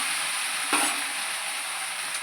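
Cauliflower hitting hot oil with garam masala, a continuous loud sizzle of frying with a brief clatter as the pieces are stirred in, no voices.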